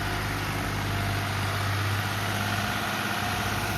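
A 1984 tractor's engine idles in a steady, low rumble, continuous and unchanging, loud and close, with no talking over it.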